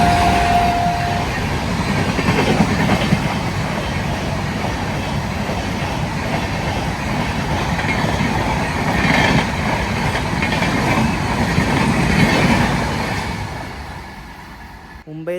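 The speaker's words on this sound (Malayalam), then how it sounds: "മുംബൈയിൽ നിന്ന് രാവിലെ 8 മടുഗാവ് ജനശതാബ്ദിയാണ് ഇപ്പം അങ്ങോട്ട് പോയത്" The Mumbai–Madgaon Jan Shatabdi express rushes past near Suravali, Goa, a loud, continuous rumble of rolling wheels with rhythmic clatter that fades as the train goes, while a voice talks faintly underneath.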